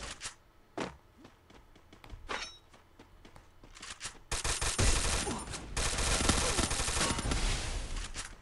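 Rapid bursts of gunfire in the video game Free Fire, sparse single shots at first, then a dense sustained volley of automatic fire, loud and close.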